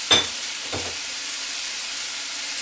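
Onion and tomato sauté with rock salt in a pan. Two quick scraping stirs come early, then a soft, even sizzle hisses on alone.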